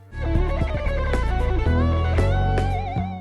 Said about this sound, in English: Here's the run that I'm talking about, by the way.